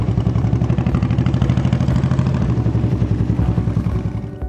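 A 1989 Honda Shadow motorcycle engine idling close by, loud with a rapid, even, throbbing pulse and a slight mechanical clatter, steady throughout without revving.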